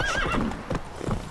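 Roach, a horse in The Witcher video game, gallops with quick clip-clop hoofbeats and lets out a whinny, all within a brief, close burst with no speech.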